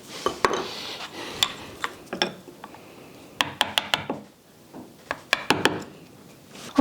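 Hand carving a wooden flower with a gouge gives a close series of sharp scraping cuts and rasping strokes into wood, irregular and spaced out with quiet gaps between them.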